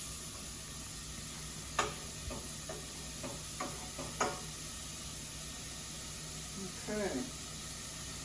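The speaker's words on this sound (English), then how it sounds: "I'm going to let this cook for a couple of minutes. Sizzling away nicely." Tomato spinach pasta sizzling in a single pot, a steady soft frying hiss with occasional clinks and scrapes of stirring, and a voice speaking briefly.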